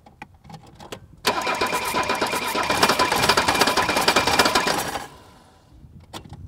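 An old Mercedes 300D diesel cranks over on the starter for about four seconds, a steady loud churning run that starts abruptly and stops, with quieter clicks and taps before and after.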